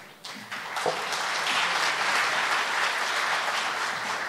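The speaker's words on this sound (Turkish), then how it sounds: "Efendim alkışlarınızla." Audience applause at a live Turkish classical music concert, swelling quickly from a few claps into sustained, dense clapping that holds steady and fairly close.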